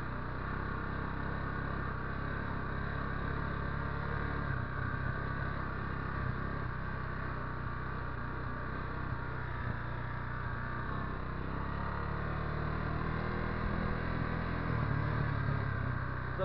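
A quad bike rolls slowly across a snowy field, its engine a low, steady drone heard from some distance, even and unbroken with a slight rise near the end and no talk over it.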